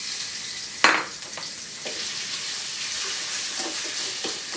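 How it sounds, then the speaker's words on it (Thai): Chicken hisses and sizzles in a hot wok after landing with a loud splash, then a steady crackling fry continues with light scraping stirs. "ใส่ไก่ลงไปผัดเลยครับ"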